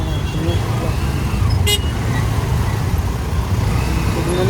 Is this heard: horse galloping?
no